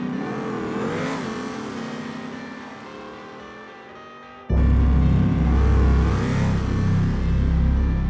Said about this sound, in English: we make it down the track, surviving the 300 shot of nitrous and running the first 7 with this car